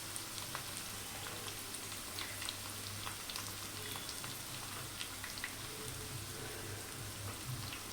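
Curry leaves fry in hot oil alongside onion for rava upma, a steady soft crackle and sizzle with scattered pops, alone and without talk.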